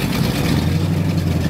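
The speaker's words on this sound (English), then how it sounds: "Our test boat was fitted with the captain's call through transom exhaust, which really gave the FX8 a powerful sound" A Formula 420 FX8 boat's engine with captain's call through-transom exhaust gives a loud, deep, steady rumbling drone up close for a brief moment.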